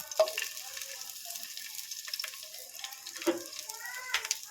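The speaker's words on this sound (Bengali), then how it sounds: "পেঁয়াজটাকে একটু হালকা করে ভেজে নেব" Onions frying in mustard oil in a wok make a light, steady sizzle, broken by a couple of clinks from stirring, all close by and fairly quiet.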